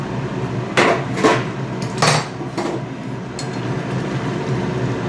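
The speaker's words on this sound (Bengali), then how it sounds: "এবার ঢাকাটা খুললাম।" A cooking pot lid lifts off with a few sharp metallic clanks and knocks over a steady background hiss, while chana dal simmers for luchi in a home kitchen.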